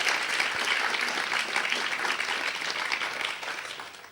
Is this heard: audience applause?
yes